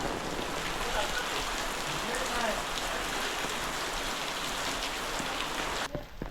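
Unseasonal May rain in the Konkan pouring onto a wedding stage, a dense, steady hiss of drops hitting surfaces close by, ending in a brief clatter just before the close.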